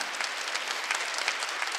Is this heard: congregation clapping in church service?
yes